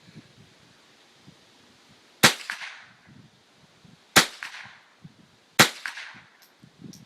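Three sharp, loud gunshots from a gun that had jammed, fired outdoors at spaced intervals, each with a quick crack and brief decaying echo over a quiet background.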